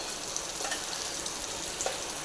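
Onion and tomato gravy sizzling steadily in hot oil as spices go in for a Kathiyawadi peanut bhajiya curry, a continuous close frying hiss with small crackles and no talking.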